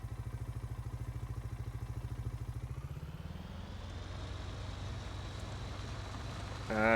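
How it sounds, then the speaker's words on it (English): A modded tractor engine in Farming Simulator 19 chugs with a steady rapid low pulse, then revs up into a smoother, louder sustained drone, with no talking over it. "He changed up the engine sound as well."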